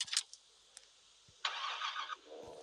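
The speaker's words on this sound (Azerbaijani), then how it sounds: "Motoru qodlayaq gedək" A car engine in a video game cranks with a few short clicks and thumps, then catches and settles into a faint, steady hum.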